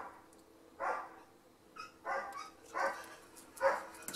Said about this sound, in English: I'm not sure what the dogs are barking at